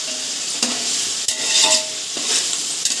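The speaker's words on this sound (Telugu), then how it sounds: "ఇదేమో ఇది కేజీన్నర చికెన్ అనమాట. ఫ్రై అడిగారని ఫ్రై కూడా చేస్తున్నాను." About a kilo and a half of chicken frying in a pan, a loud steady sizzle close by with intermittent scraping stirs and light utensil knocks, no talking.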